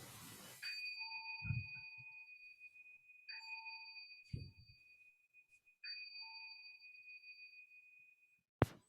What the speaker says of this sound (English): So Suki, if you will ring the bell for us, we will bring everything to a close.